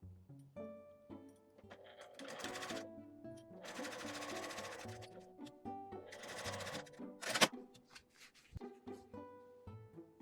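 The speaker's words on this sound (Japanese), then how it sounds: "ファスナーのところは硬いので手回しでミシンを回します。" A sewing machine is turned slowly by hand over a stiff zipper while making a small lined bag pouch, giving soft clicking and whirring bursts with pauses and a sharp knock, close up and without talk.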